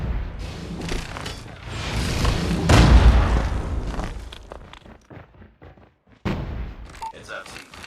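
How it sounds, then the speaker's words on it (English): Grenade blast in a multiplayer shooter game, a loud deep boom swelling over several seconds amid game noise, followed by a rumbling tail and sharper thumps, with people talking over it. "My nade!"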